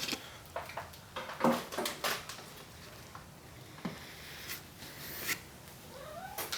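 A cat caterwauls and meows in a few short, faint cries amid scattered clatter of dishes and household knocks.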